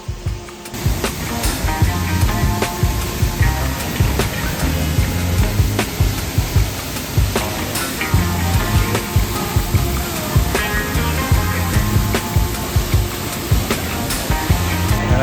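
A waterfall in Cebu, Philippines roars steadily and loudly up close, a dense continuous rush of falling water and spray with no break and no talking.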